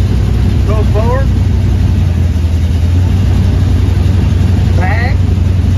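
A 1961 Chevrolet Impala hardtop with a freshly adjusted clutch runs steadily as it rolls forward, its engine a constant close drone, with brief voices speaking over it near the start and end.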